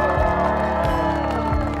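Wedding guests applaud the newly married couple, a steady, close wash of clapping and cheering that holds evenly throughout the short moment.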